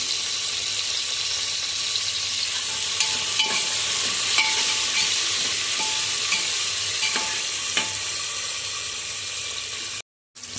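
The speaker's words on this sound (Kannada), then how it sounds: "ಇವಾಗ ಚೆನ್ನಾಗಿ ಉಳ್ಳಾಗಡ್ಡಿ ಎಣ್ಣೆಯಲ್ಲಿ ಫ್ರೈ ಆಗಿದೆ" Onions and tomatoes fry in oil for tomato rice, giving a steady close sizzle with faint stirring scrapes and no talk.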